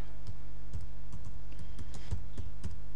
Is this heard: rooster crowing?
no